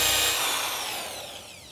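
Power drill boring into material, a loud continuous whir that begins at full strength and slowly winds down over a couple of seconds, heard alone and close.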